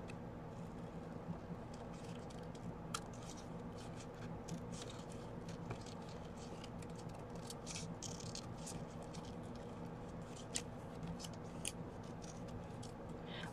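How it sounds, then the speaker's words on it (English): Scissors fussy-cut a fish shape out of coral artwork on a coloring book page, giving a steady run of soft, close snips and paper rustles with no talking. "I'm going to cut him out of this coral here."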